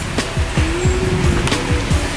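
A car engine revs nearby in a series of rising and falling bursts, loud and close, with a faint steady whine underneath.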